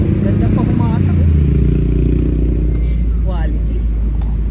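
A Mazda 323 engine runs with a rough, low rumble and some clattering, close and loud, while people talk over it.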